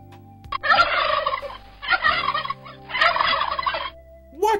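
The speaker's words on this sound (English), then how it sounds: "That is the sound a turkey makes." Three loud bursts of rapid, warbling turkey gobbling, each lasting about a second, separated by short pauses, close and clear with no talking.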